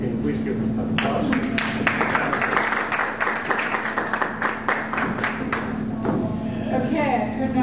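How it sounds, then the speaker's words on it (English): Audience at a public art speaker event in Washington County claps in a brief burst of sharp, uneven hand claps, fairly close, starting after a second and fading out near the end. "can you please give them an applause?"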